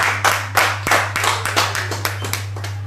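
A church congregation claps at a sermon, a series of sharp, uneven hand claps at a brisk rhythm, close and clear over a steady low electrical hum.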